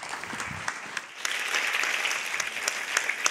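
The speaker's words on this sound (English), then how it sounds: "let's give Meagan a big round of applause and welcome" A conference audience applauding to welcome a speaker on stage, a steady wash of many hands clapping at moderate distance, swelling slightly and continuing throughout.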